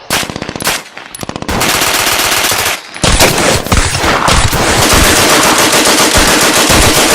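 Suppressing gunfire in a video game: loud, rapid machine-gun bursts, first in short choppy volleys, then a sustained continuous rattle of automatic fire, with no talk.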